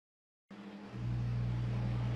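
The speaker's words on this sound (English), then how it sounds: "Drivers, start your engines!" Race car engines start up and settle into a loud, steady idle at ISM Raceway, the low drone rising after a half-second of silence and holding strong to the end.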